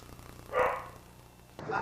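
A dog barks once, a short, moderately loud bark near the middle, with a quieter noise at the end and a low background hum.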